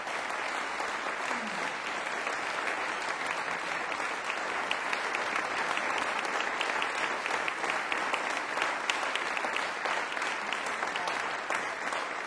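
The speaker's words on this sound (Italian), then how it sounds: "je vous demanderai un applaudissement" Audience applause at a choir concert, a continuous wash of clapping from a seated crowd sustained for over ten seconds at moderate level, steady and unbroken.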